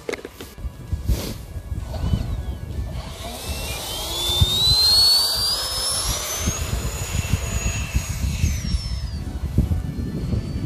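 An E-flite HABU SS 70mm 6s electric ducted-fan RC jet landing in wind: a high, whining fan tone sweeps and slides in pitch as the jet passes, over steady gusty wind rumble.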